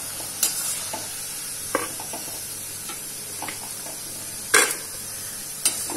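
Bitter gourd pakoda frying in hot oil, a faint steady sizzle broken by a few sharp clinks and stirring scrapes from a utensil, with no one speaking.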